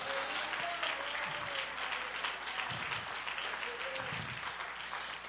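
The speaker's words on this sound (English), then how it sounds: "I wish you'd clap your hands to the Lord." A congregation claps during a Sunday morning church worship service, producing a soft, continuous wash of applause with a few faint voices murmuring beneath it.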